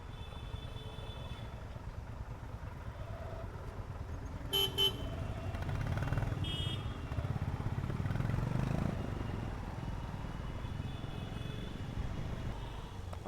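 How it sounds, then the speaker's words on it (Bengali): Traffic jam on a rain-wet central Kolkata street near the RBI building, a low constant rumble of idling cars and motorcycles with several short horn toots and honks, moderately distant; no talk. "প্রচণ্ড জ্যাম, জ্যাম আজকে কমতে চাইছে না, চারিদিকে জ্যাম"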